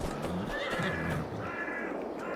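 A horse in Farming Simulator 22 neighs in a loud, drawn-out whinny with wavering pitch, set against a steady game soundscape with faint hoof clopping.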